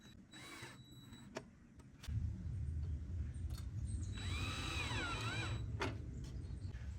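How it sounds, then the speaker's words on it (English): A power drill drives a screw into a piece of wood during a park bench makeover, starting with short bursts and then running in a steady whirring stretch, close and clear. "Just one screw directly into this piece of wood."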